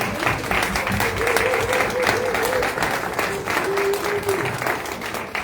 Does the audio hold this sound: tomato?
no